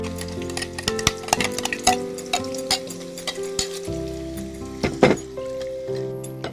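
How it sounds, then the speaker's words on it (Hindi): Spice paste frying in hot oil for a kofta curry, crackling and sizzling steadily with the scrape and clink of a spoon stirring in the pan close by. "और पेस्ट को गरम तेल में डालकर फ्राई करें।"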